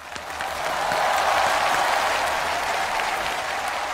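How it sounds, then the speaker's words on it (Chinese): Studio audience applauding at a televised Chinese job-interview show, a steady wash of clapping that swells quickly and holds loud and even for several seconds as a guest is welcomed on stage. "让我们掌声欢迎董文正"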